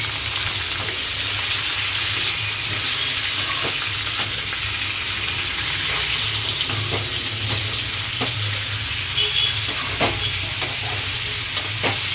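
Chicken frying in a pan, a dense, continuous sizzle and hiss with occasional stirring scrapes, close and steady throughout with no talking.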